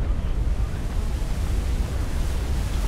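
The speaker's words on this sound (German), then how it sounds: "Monsterwelle von Steuerbord!" A rogue wave at sea in the pirate game Assassin's Creed IV Black Flag gives a continuous loud roar of surf and wind, broad and rushing throughout with no voices.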